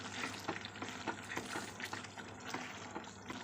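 Biryani-style chicken fries in a pan while a spoon stirs it, giving a dense, steady sizzle with repeated scraping strokes throughout, close and fairly loud, with no talk.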